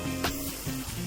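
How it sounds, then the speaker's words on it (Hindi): Half a teaspoon of asafoetida (hing) sizzles as it is sautéed in a pan for tamarind rice, a short, steady frying hiss close by with no talk. "सौते करें इसको।"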